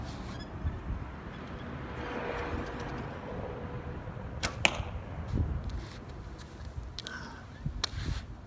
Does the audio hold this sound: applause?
no